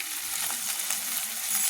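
Ground spices such as turmeric, cumin and coriander sizzle in hot oil in a pan while cooking an egg and eggplant curry, a steady soft hiss with faint stirring crackles, no talk.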